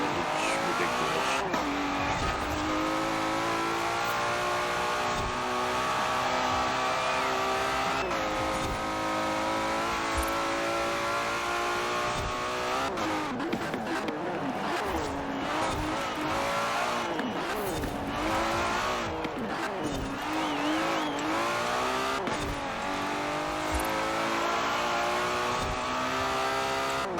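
Forza Horizon 4 game car driving hard for nearly half a minute, a steady loud engine drone with revving that rises and falls and repeated tire squeals as the tail steps out, no talk over it.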